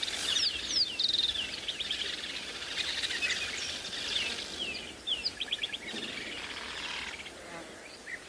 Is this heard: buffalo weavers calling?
yes